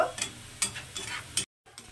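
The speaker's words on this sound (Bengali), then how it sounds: "তো দেখুন এটাকে এখন পুরো লাল লাল করে ভেজে নেব।" Hand-cut potato sticks sizzle in hot oil in a pan, with several scraping stir strokes over the steady crackle and one short silent break.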